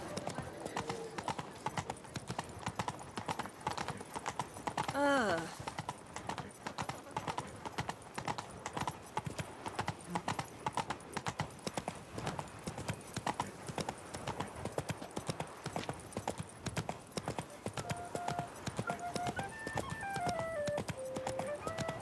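Hooves of Roach, a horse in The Witcher 3, clip-clop in a steady, continuous rhythm throughout, with a short whinny-like call early on and faint voices and game sounds underneath.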